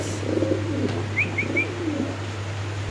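Pigeons at a pigeon market, a few soft coos and short chirps close by over a low constant hum and faint background murmur.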